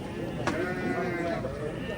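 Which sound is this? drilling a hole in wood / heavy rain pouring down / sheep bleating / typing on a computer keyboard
sheep bleating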